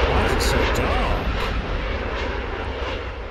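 An airplane engine roars in the train simulation game Train Sim World 2 during a London commuter run, a loud steady broadband rumble that slowly fades, with a voice talking briefly over it.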